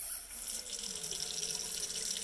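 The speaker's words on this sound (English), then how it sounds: "we're gonna go ahead and turn on the water" Water runs steadily from a bathroom sink faucet during handwashing, a continuous close hiss and splash with no break across the whole stretch.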